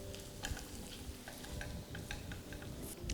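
Squid masala stirred in a pan after black pepper powder and chopped coriander go in, giving close, steady scraping and sloshing strokes over a soft sizzle for about three seconds.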